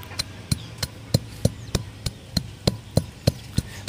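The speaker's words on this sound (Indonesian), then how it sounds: "Tumbuk terus," Eggshells pounded into powder with a pestle, a series of about a dozen sharp, evenly spaced knocks at a steady rhythm, close and alone with no voices.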